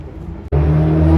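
A car at a Sunday car meet at Vauban, among modified Mustangs and Subarus, roars past loud and close, its engine note rising abruptly after a brief lull and holding a strong steady drone.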